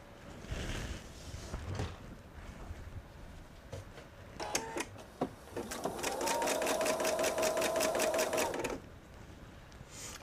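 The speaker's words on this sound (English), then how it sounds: "now we'll go to sewing machine" A sewing machine stitches in a quick, steady rhythm for a few seconds after some light clicks and handling noises, with quiet speech at the start.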